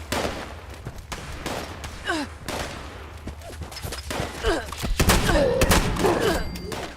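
Repeated shotgun blasts in Fallout 76, a string of heavy booming shots with short gaps between them and grunting sounds and a voice mixed in.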